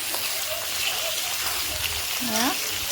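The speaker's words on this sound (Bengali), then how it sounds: "এতিয়া ইয়াতে মাংসখিনি দি দিম এয়া মই মাংসখিনি দি ল'লোঁ এতিয়া এইখিনি অলপ সময় ভাজি ল'ম" Goat meat frying with onions in a pan, a steady crackling sizzle that carries through the whole stretch, with a voice speaking over it.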